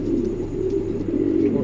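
Pigeons at a Bangladeshi pigeon sale, including a silver bird, coo in a steady, low, continuous murmur that stays close and fairly loud throughout, with no voices over it.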